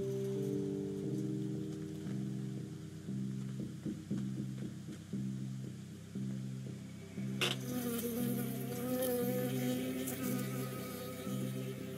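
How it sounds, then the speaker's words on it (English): A bee buzzes in the video game Firewatch, a close, steady droning hum with a pulsing rhythm, followed by a brighter rustling burst partway through. "Got stung by a bee."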